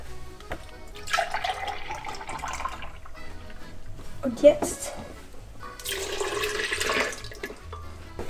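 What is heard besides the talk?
milk being poured into a glass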